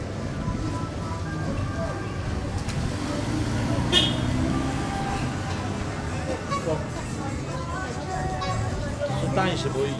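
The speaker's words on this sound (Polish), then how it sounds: "Samochód." Street traffic in Copacabana, Bolivia, with a car passing and short horn toots rising over a steady roadway rumble, while people talk nearby.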